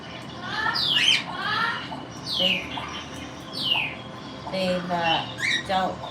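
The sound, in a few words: pet parrot squawking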